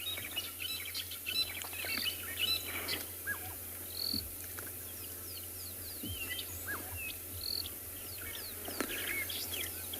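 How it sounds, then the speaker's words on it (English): A busy chorus of bird calls and chirps on a South African safari, with one loud, harsh, varied drongo standing out over a steady insect drone in the background. "you can hear all the birds calling. A drongo making the most noise."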